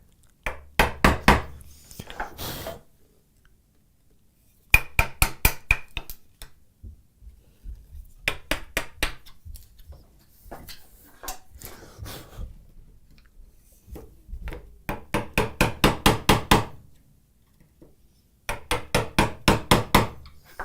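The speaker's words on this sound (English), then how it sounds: "Working with a chisel named Henry, an 1/8-inch chisel." A mallet strikes an 1/8-inch wood chisel in a workshop, firing off bursts of rapid, sharp, evenly spaced taps separated by short silent pauses, loud and close.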